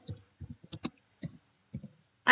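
Keyboard typing while writing if-statement code for a rock paper scissors game: scattered soft clicks and short bursts of keystrokes, close by and fairly quiet, ending with a brief louder rustle.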